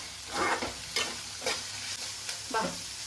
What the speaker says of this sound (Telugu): ఇవి ఫ్రై అవుతుంటే ఏం స్మెల్ వస్తుంది తెలుసా, చాలా బాగా స్మెల్ వస్తుంది.